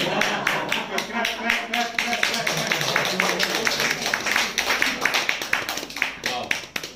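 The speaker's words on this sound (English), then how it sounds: "Clap." An audience at a speaking event claps steadily for several seconds, a dense run of hand claps at moderate loudness that keeps an even pace with voices beneath it.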